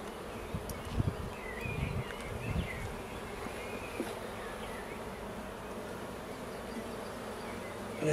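Honey bees buzzing around an open hive during a spring inspection, a steady close drone with a few louder handling knocks near the start and no voices.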